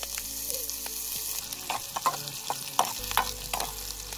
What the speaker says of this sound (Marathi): कांदा भाजून झाला तर तेल टाकून घेते.